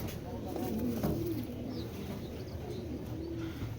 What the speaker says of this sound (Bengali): মাশাল্লাহ এক জোড়া গ্রিজেল কবুতর